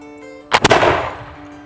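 A smoothbore musket fires a single loud, sharp shot up close, and the blast rolls off into a fading echo. A faint steady hum sits beneath it beforehand.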